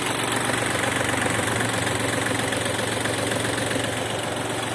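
A Japanese mini tractor fitted with a rotary tiller idles at low revs, its engine running smoothly and steadily with a constant close, loud rumble and mechanical clatter from start to finish, no voices present.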